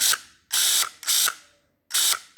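Pellenc battery-powered pruning shears cycle mechanically, four quick bursts of ratcheting, geared whirring with short pauses between them, close and crisp with no talking.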